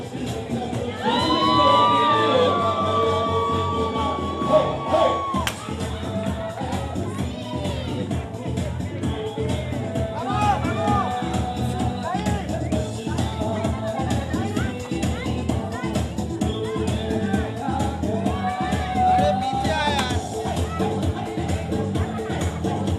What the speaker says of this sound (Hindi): तालियां बजती रहनी चाहिए यहाँ पर जितने भी लोग हैं